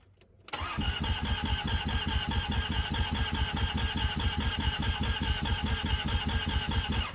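A rough 3.0 V6 in a 1995 Plymouth Voyager cranks over loudly and close, the starter churning in a fast, even rhythm that begins abruptly and keeps going without the engine catching.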